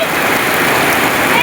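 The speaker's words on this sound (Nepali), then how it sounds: "बबालले पानी पर्दैछ" Heavy, windless rain pours down steadily in a village, a loud, dense, continuous hiss of drops on surfaces filling the whole moment with no pauses.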